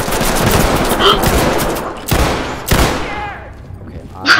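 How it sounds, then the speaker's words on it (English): Gunfire echoes down a hallway in the tactical shooter Ready or Not, loud close bursts of shots ringing out, with a couple of sharp reports standing out before the sound trails off into quieter reverberation. "why are you just shooting down a random hallway?"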